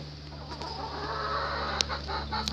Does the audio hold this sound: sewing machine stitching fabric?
no